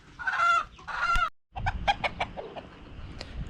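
Chickens on a homestead cluck and squawk, with two loud drawn-out calls followed by a run of shorter, sharp clucks, close and clear with no talking.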